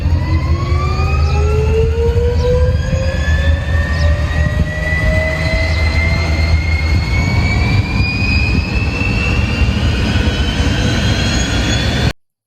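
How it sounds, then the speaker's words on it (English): A jet engine roars loudly and close with a powerful broadband rumble and rising whining tones that climb steadily in pitch as it spools up, cutting off abruptly at the end. "something we all notice but do not always think deeply about the noise made by the jet engines"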